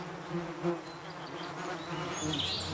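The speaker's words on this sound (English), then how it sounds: "He's standing on a beehive." Bees swarm around a beehive sitting on the ground on an island, making a faint, steady, continuous buzz with small rises in pitch and a few louder passes near the end.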